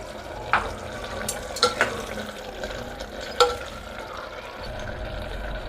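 Spices stirred into a pan of frying oil for rice bath, a low steady sizzle with a few sharp scrapes and clinks of a spoon against the pan.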